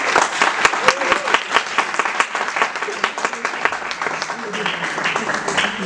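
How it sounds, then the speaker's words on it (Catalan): A live audience at a round-table panel discussion claps for the people present. Applause fills the room at a steady, moderate level, with sharp individual claps standing out, and continues throughout. "un aplaudiment per les persones que hi ha aquí"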